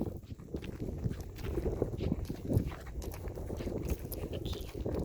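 A gaited tobiano horse walks on a loose rein, its hoofbeats a steady, moderately close clip-clop under a low, continuous background rumble.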